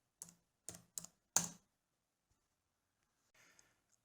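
Several sharp, isolated keystrokes tapped on a computer keyboard while entering a terminal command, four quick clicks close together followed by a fainter cluster of soft taps, alone in an otherwise quiet room.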